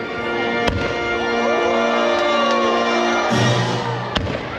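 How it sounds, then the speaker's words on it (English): Fireworks exploding over the 2025 San Diego County Fair on Independence Day, with a few sharp bangs and crackles above a steady wash of crowd noise and a sustained tonal drone, bursts fairly close and loud. "as we kick off the fireworks extravaganza at the 2025 San Diego County Fair."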